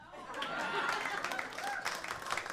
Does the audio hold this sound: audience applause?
yes